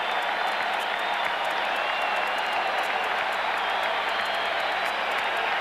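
Baseball stadium crowd cheering at a 1996 Rangers–Yankees ALDS playoff game, a loud sustained wash of applause and roaring from a large crowd with no break.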